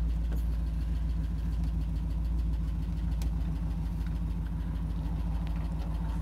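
A car engine idles steadily after a Lokar throttle pedal, throttle cable and kickdown cable install, a low even rumble with a slight knocking pulse, close and constant with no talking.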